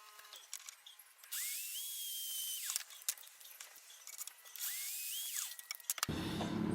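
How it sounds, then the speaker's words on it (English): A power drill bores a 3/8 inch hole for a reloading base, its motor whining up to a high steady pitch twice with a pause between runs, close and loud. "I put a quick 3/8 inch hole for the base end, the reloading base."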